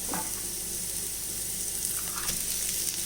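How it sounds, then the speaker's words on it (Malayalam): Shredded cabbage cooks in a frying pan for a poha upma, giving a steady, dense sizzle with faint stirring scrapes throughout and no talking. "ഇനി നമുക്കിതിലേക്ക് ക്യാബേജ് ഇട്ട് കൊടുക്കാം"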